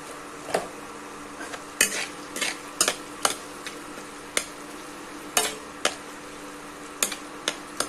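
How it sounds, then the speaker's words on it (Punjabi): Spices sizzle in hot oil for kadhi pakoda, a spatula scraping and clinking against the pan in sharp, irregular strokes over a steady low frying hiss, with no voices. "ਮਸਾਲਿਆਂ ਨੂੰ 2 ਤੋਂ 3 ਮਿੰਟ ਤੱਕ ਪਕਾਵਾਂਗੇ"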